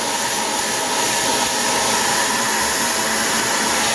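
A hair dryer blows steadily on knitting yarn to straighten and dry it, a constant loud whooshing hum with no pauses.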